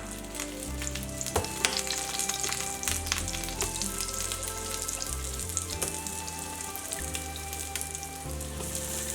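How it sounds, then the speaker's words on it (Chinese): Constant close sizzling of a luffa pancake frying in a covered pan, a dense crackling hiss with small pops and no voices. "盖上盖子，再煎2分钟。"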